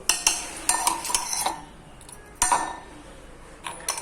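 A spoon stirs a coffee mixture with milk, ringing and clinking against the cup in quick bursts, then goes briefly quiet before a few more sharp taps and clinks.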